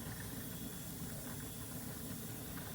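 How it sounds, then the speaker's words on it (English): A continuous, even hiss of steam rushing out of a pressure canner being used to can chicken, with a low rattly undertone and no pauses. "Okay, we have steam coming out."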